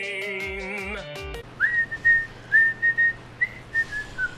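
A character in the Dark Souls game whistles a series of short, clear, high notes alone, following a brief chime-like musical phrase.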